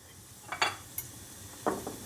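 Chopped onions tipped into a hot pan with oil and bay leaves, giving a couple of soft close thuds and brief sizzles over a steady low kitchen hiss, with no talking.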